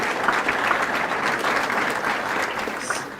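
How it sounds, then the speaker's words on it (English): An audience at a scholar-athlete awards ceremony claps steadily, a dense, even wash of applause from many hands close by that continues throughout with no talking. "So let's just applaud ourselves once more."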